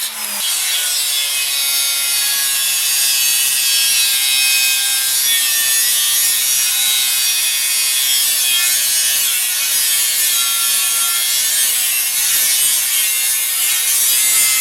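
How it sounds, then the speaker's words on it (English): An angle grinder cuts a round hole in a steel propane tank being made into a woodstove, giving a loud, continuous, harsh abrasive whine that holds steady throughout. "So I'm doing it with an angle grinder."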